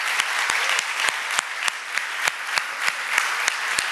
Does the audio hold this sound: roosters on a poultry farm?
no